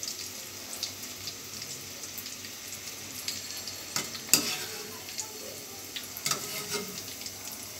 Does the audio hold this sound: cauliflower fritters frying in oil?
yes